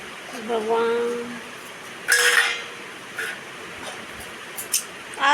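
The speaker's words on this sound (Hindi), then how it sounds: "ये देखिए सारे बर्तन निकाल रखे।" A small child takes out and handles household pots, pans and utensils at home, making sharp metallic clatters and clinks in a few bursts, with a voice heard speaking at the start.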